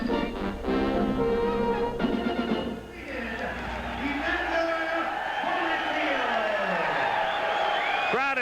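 A boxing arena crowd roars with cheers and whoops after Evander Holyfield's knockout win, a loud sustained din. A voice is heard early on, and the cheering rises again toward the end.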